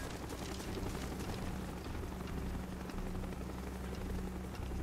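A helicopter approaches in the video game Call of Duty Black Ops, its steady low rotor thrum and broad rushing noise holding faint and continuous throughout, with no talk over it.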